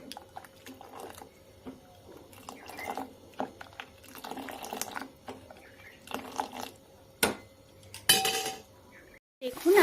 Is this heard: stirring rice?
yes